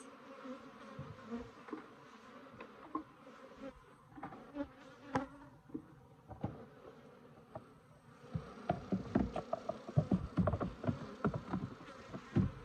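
A steady, dense hum of many Italian/Africanized hybrid honeybees buzzing close by around a hive, with scattered louder passes and soft bumps over the droning swarm.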